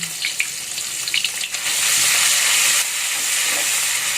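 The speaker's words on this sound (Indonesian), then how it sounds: "kita cemplungin bumbunya" Ground spice paste for soto Betawi hits hot oil in a pan, setting off a loud, steady hiss and sizzle that swells after a few crackling pops and carries on close up.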